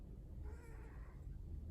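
A large Ragdoll cat gives a soft, faint meow during a quiet cuddling session, a single brief call over low background rumble.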